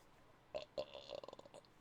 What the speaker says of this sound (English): That's my rage burp.